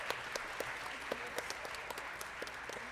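Applause at a spring jazz band concert, a steady crowd of clapping hands with a few crisp, close individual claps popping out over the even wash.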